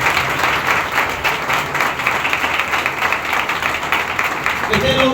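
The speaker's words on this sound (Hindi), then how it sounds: "आपकी तालियां बताएंगी कितने खुश हैं।" A church congregation at a Sunday service applauding, dense sustained clapping from many hands filling the room, steady throughout with a voice speaking faintly near the end.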